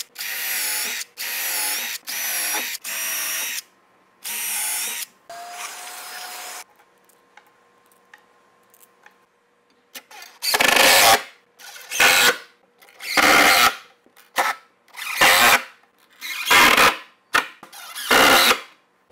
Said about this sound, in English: And it's important to countersink them or else you might break a screw.